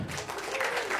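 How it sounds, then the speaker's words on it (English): A comedy club audience bursts into steady, dense clapping that fills the room at a fairly even level for the full second, with no voice on top. "Clap if you have ever gotten ghosted."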